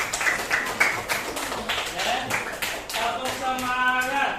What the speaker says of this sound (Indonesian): Kita tepuk tangan untuk pembelajaran hari ini.